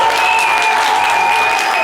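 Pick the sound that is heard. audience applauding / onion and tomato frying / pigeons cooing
audience applauding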